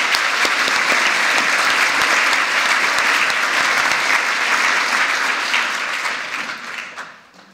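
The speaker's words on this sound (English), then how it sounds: "I think we should all applaud him." Sustained audience applause at an architecture honorary fellowship award ceremony, dense steady clapping from a large crowd that holds strong before fading out at the end.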